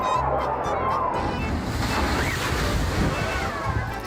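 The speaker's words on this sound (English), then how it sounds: "A pool with mega waves is a wonderful invention." Large artificial waves surge through a wave pool at a tourist attraction, a loud continuous wash of churning water with wind rushing across the microphone.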